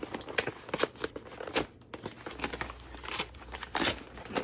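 Taped book mail package being handled and opened, with crinkling, tearing and scraping bursts in irregular rhythm, close and moderately quiet.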